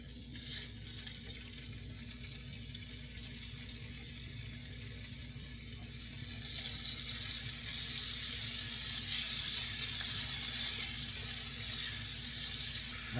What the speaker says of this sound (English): Now you add your beef in there.